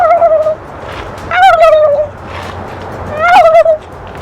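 A boy imitates goose calls with his voice, three loud, nasal honking bursts separated by short pauses, close and clear.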